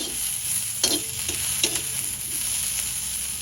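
Green chillies roasting in a pan, a steady sizzle with a few sharp scraping stirs knocking through it, close and alone with no voices.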